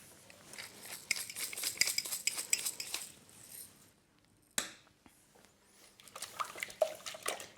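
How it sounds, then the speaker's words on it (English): A balloon whisk gently beats eggs with a pinch of sea salt and black pepper for a ham and spinach omelette. The wire strikes the bowl in quiet, quick clinking bursts, with a short pause midway. "I'm just going to gently give them a little whisk, just to combine everything. Just a balloon whisk here."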